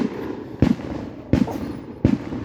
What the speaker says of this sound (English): some fireworks.